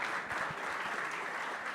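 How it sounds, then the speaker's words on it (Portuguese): Conference audience applauding in Presidente Prudente, Brazil, a brief, steady wash of clapping from a moderate-sized crowd, fairly soft and heard without speech. "Vamos aplaudi-lo, por favor."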